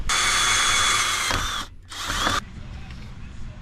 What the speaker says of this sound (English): I drill a hole inside of the chassis